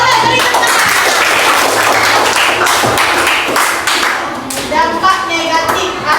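A school class claps in a burst of applause, dense and close, with children's voices chattering over and after it.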